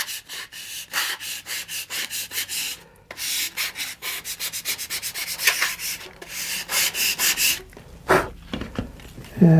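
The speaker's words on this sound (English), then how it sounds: "I'll just come and sand to flatten that out." A model rocket tube is sanded with a sanding tee and medium grit sandpaper, producing close, repetitive rasping strokes in a quick back-and-forth rhythm, with a brief pause partway through.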